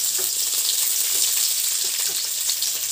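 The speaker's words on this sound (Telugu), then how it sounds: "పల్లీలు కూడా ఫ్రై అయిపోయినాయి" Peanuts fry in hot oil with a steady, close hiss and crackle, marked by small pops and occasional stirring.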